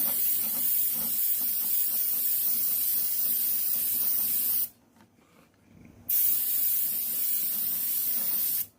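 Steady airbrush hiss sprays paint continuously onto an N scale model barn kit, cutting off briefly to a quiet pause, then resuming before stopping abruptly at the end.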